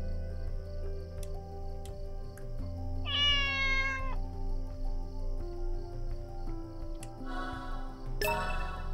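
A cat meows several times as the player character in a video game set in a town, with clear calls rising over steady game music and ambient chiming.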